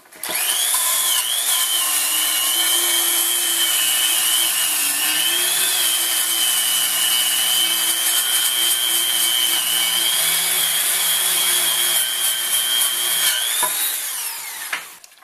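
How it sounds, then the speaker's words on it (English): A wire wheel spinning on an old drill scours silicone off a vehicle differential cover, a loud, steady whining grind that holds for about thirteen seconds before spinning down. "this wire wheel here, we're going to clean up the silicone on the cover"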